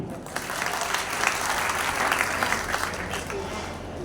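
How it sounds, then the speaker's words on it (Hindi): Enthusiastic audience applause at a student award ceremony in India, a dense wash of clapping that swells slightly in the middle and stays strong throughout. "जोरदार ताली।"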